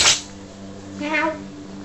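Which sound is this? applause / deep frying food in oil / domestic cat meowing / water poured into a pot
domestic cat meowing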